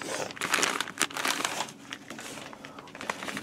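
Plastic wrapping is peeled and torn off a product, making loud, close crinkling and crackling in uneven bursts throughout.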